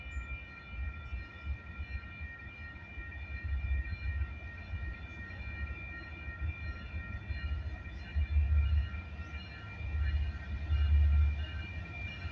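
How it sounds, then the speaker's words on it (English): A train rumbles past at a moderate distance, deep low rumbling swelling and fading in waves over a steady mechanical hum. "third train coming"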